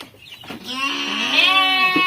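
Sheep bleats in a long, wavering call that rises and holds, close and fairly loud over a quiet farm background with no talking.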